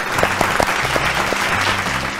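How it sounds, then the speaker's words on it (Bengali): A studio audience on a Bengali family game show claps loudly and steadily, a dense, continuous round of applause from start to finish. "জোরে হাততালি।"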